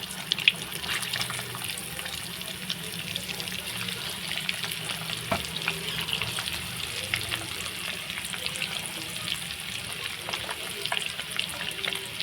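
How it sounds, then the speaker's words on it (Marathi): Eggs frying in hot oil in a pan for an egg masala, giving a steady, soft, watery hiss and crackle that runs evenly throughout without speech. "यामध्ये आपण अंडा टाकून परतून घेणार आहोत"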